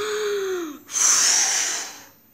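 A voice imitates the wolf blowing hard on a house: a rising whistled breath first, then a long, forceful rushing exhale that fades away, alone with no talk.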